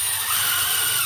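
A power drill runs with a continuous high whine while driving screws through a wooden board on a horseshoeing stock, close and loud for just over a second, with no talk.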